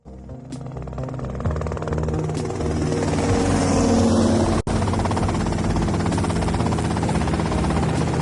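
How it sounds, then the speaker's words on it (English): Helicopter in the Vice City game, a loud continuous rotor and engine drone with steady chopping texture that swells and holds throughout, close and unaccompanied by talk. "that's them in the chopper"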